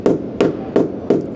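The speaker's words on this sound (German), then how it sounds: "bitte mal auf den Fußboden hier drin hauen" A hammer strikes the floor inside a Wingamm Oasi fibreglass monocoque motorhome four times, evenly spaced, each a close, solid thud with a short ringing decay.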